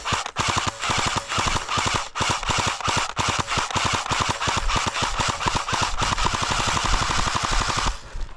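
A Cyma CM028 airsoft AK rifle fires a long, rapid stream of full-auto shots, loud, close and steady, with only brief gaps as it lays down cover fire during an outdoor skirmish.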